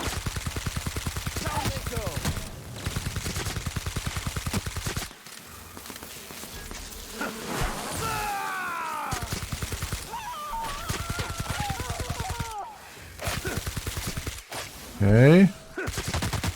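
Rapid automatic gunfire crackles in repeated bursts during combat in the video game The Outer Worlds, broken by brief pauses, with short game sound effects between the volleys.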